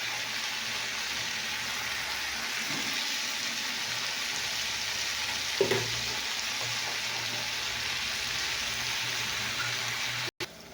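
Cumin seeds and chili sizzle and crackle as they fry in oil in a pan, a steady loud hiss throughout with an occasional stir or clink, and a brief dropout near the end.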